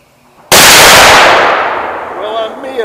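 A muzzleloader rifle loaded with smokeless powder fires one sharp, very loud shot that cracks suddenly and then rolls away in a long fading echo, with no voices present.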